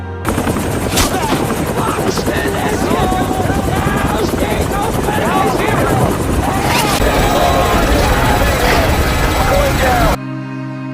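Film battle scene with loud, dense helicopter rotor noise under bursts of machine-gun fire and scattered gunshots as enemy fire hits the helicopter and it crashes, continuous and close, cutting off abruptly near the end.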